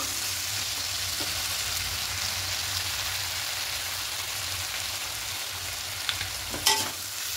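Vegetarian papaya curry with a spice paste and a touch of sugar is fried and stirred in a pan. A steady, close sizzle runs throughout, with a few light scraping clicks near the end.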